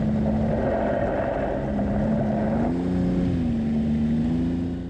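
Snowmobile engine droning steadily and close on a road in Charlevoix, with a throttle shift midway that changes the pitch of the hum; continuous and loud with no talk.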